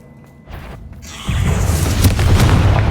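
A Confringo blasting spell in the game Hogwarts Legacy goes off as a deep, booming explosion that swells and holds as a loud rumbling roar with crackling debris, after a quieter lead-in.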